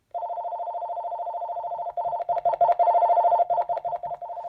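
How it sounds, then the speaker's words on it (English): AT&T EL52210 cordless phone sounding its bass ringer, a loud, steady electronic warble that shifts to a choppier pulsed pattern partway through, close and alone. "here's the bass ringer while I'm on the bass"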